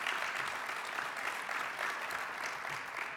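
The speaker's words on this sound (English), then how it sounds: "So they deserve a round of applause." An audience at a lunch event applauds steadily, a dense wash of hand claps from a room full of people, moderately loud and sustained for the whole stretch, with no talking over it.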